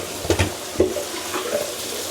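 Water splashes and gurgles in a sink as a plunger works a clogged drain, with a few sharp plunging sloshes, close by and with no talking.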